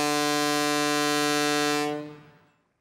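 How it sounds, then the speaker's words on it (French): A cartoon boat's whistle blows as one long, steady, loud tone that holds for about two seconds and then fades away, with no voices over it. "Le sifflet n'est pas un jouet."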